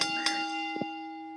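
A ring bell sounds in a WWE 2K25 wrestling match, a single bright metallic ding with a sustained ringing tone that slowly fades, followed by a couple of soft knocks.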